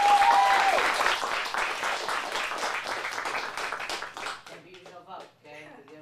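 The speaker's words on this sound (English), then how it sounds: "let's get a round of applause" An audience at a teen showcase performance breaks into loud applause that gradually thins and fades, giving way to a few spoken words near the end.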